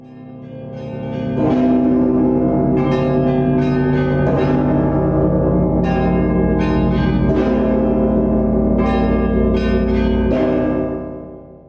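Large church bells in Rostov ring in a repeating pattern of deep, resonant strikes layered with brighter tones, their long humming overtones sustaining until they fade.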